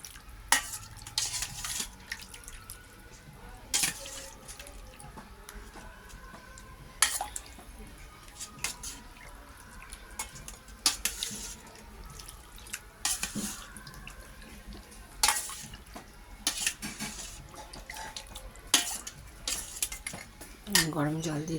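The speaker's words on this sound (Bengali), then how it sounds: "গরম জল দিয়ে ধুয়ে নিয়েছি," Chicken pieces washed in hot water in a metal pot, with splashing, sloshing and scattered clinks and scrapes of utensils against the pot, close and fairly loud, no speech.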